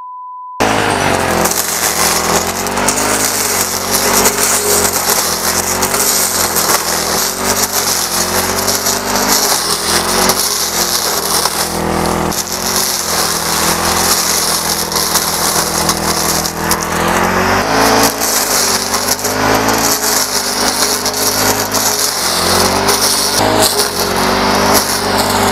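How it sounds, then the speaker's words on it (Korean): A Honda four-stroke brush cutter runs at a steady, loud whine as it cuts grass about head height. The engine drones continuously with small surges and rattles, and nobody speaks. "제가 이제 혼다 포사이클 엔진 예초기 가장 많이 사용하시는 예초기 중 하나인데"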